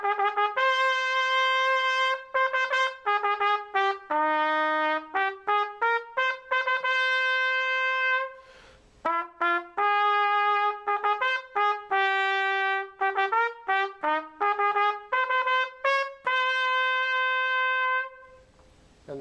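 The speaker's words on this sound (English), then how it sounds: "I don't know if you need this fanfare in the beginning." A fanfare played before the Star Spangled Banner comes as a sustained run of bright, clear instrumental notes with strong harmonics. Phrases are rhythmic and fairly loud, with a few short pauses between them and no talking.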